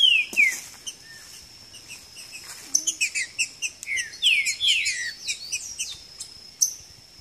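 Two green-winged saltators (trinca-ferro) sing against each other in the bush, trading bright, repeated whistled phrases and chirps in quick bursts at moderate distance, with no voices.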